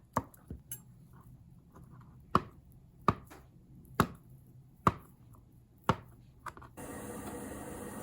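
A knife dices a boiled egg on a cutting board in sharp, evenly spaced taps, about ten strikes, close by, before a hissing noise takes over.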